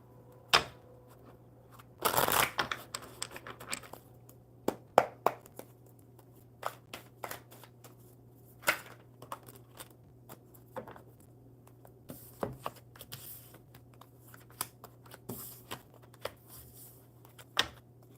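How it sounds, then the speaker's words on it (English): Playing cards being shuffled close by, with a brisk riffle burst followed by scattered soft taps and flicks in a quiet room. "One more good shuffle."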